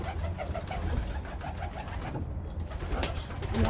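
Satinette pigeons coo continuously in their pen, a soft steady murmur of overlapping low calls with bird chatter close by and no talking.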